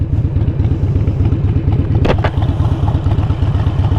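Harley-Davidson 883 Iron motorcycle engine running close up, a loud, steady, lumpy V-twin idle with rhythmic low pulses and a brief mechanical clunk partway through.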